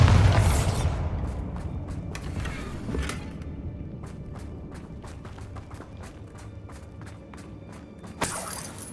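A Bombarda blasting spell bursts in Hogwarts Legacy with a loud booming impact at the start, crackling debris that fades, then a run of rapid clicking footfalls and a second sharp burst near the end.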